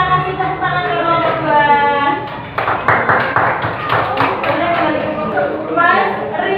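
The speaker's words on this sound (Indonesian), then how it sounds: "Kita kasih tepuk tangan ke kelompok" An elementary classroom of students claps for a group in a short burst of hand claps midway, surrounded by children's voices and talk.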